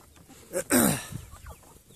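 A chicken in a coop lets out a loud, drawn-out cluck close by, with a few softer clucks and rustling around it.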